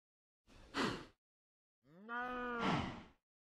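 A Minecraft cow gives two close, clear moos, first a short grunt and then a longer, drawn-out low call, with silence around them.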